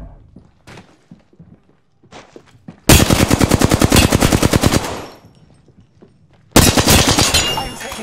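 Rapid automatic weapon fire in Apex Legends, two loud, close bursts of fast repeated shots separated by a short gap, with scattered faint clicks and game effects before the first burst.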